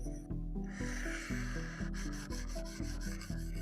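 A knife blade rubs back and forth on a 650 grit sharpening stone, a dry rhythmic scraping with about eight strokes, close and steady with no talk.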